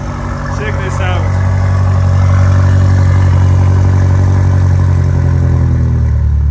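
A 2023 BMW M8 Competition Gran Coupe's engine idles loud and deep with a steady low rumble, rising briefly near the start, while a person talks excitedly over it.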